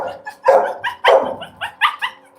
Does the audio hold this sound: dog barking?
yes